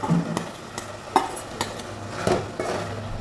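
Ground coconut paste being stirred into a simmering potato, tomato and drumstick curry, with several spoon-against-pot scrapes and taps spaced through a low bubbling, close up with no voices.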